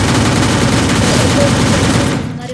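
Rapid automatic gunfire comes from above in a battle royale video game, a loud, continuous burst that fades out at the end.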